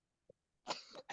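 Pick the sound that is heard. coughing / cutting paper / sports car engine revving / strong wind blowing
coughing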